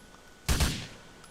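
A single close, punchy combat pistol shot in Grand Theft Auto 4, heard alone with a short decaying tail and no voices.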